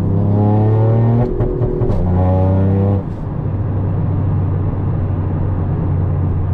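A Toyota GR Yaris engine held at high revs on launch control, a loud steady drone with brief pitch jumps, then settling into a rougher, lower rumble.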